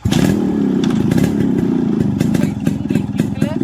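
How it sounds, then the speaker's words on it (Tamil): A Yamaha RX135 motorcycle engine starting and settling into a loud, close, steady idle with a throbbing, rattly exhaust note. "வண்டி அழகாகவே ஸ்டார்ட் ஆகிடுச்சு. இதான் வண்டியோட ஐட்லிங் நோட்"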